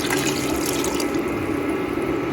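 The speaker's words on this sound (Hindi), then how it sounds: "तो मैं तकरीबन इसमें आधा इंच ऊपर रखूँगी पानी, चावलों से आधा इंच में ऊपर रखूँगी पानी" Water is poured steadily into a pot of rice for chickpea pulao, making a continuous, fairly loud rushing splash that runs unbroken with no talking.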